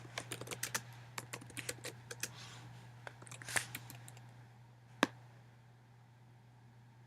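Someone types on a computer keyboard in light, uneven bursts of key clicks with one sharper tap, heard close but quietly over a steady low hum.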